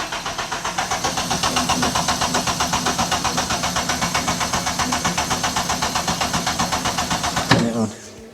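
K-swapped Toyota MR2 engine cranking under the starter, a loud, close, rapid rhythmic chug that runs for about seven seconds without catching, then cuts off abruptly.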